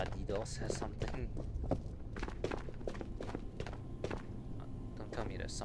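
Footsteps in the video game Ghost of Tabor thud and tap in an irregular run of steps, fairly faint and close, mixed with small knocks and a low background rumble.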